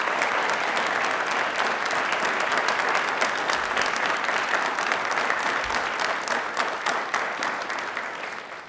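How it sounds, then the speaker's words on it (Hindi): An audience at a Rajasthan question-and-answer program applauds a speaker, a dense, loud, sustained clapping that runs throughout and tapers slightly at the end. "तालियां वापस से जोरदार होनी चाहिए सर के लिए।"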